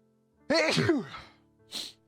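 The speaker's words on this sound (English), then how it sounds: "And I am fighting off this sneeze." A single sharp sneeze up close, followed after a short pause by a brief breathy exhale.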